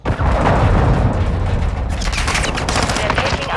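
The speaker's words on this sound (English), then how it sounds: "Hostile cruise missile launched." A cruise missile launch and explosion in Modern Warfare 2, a loud roaring rush of rapid gunfire-like blasts, then a crashing burst with crackling debris fading out.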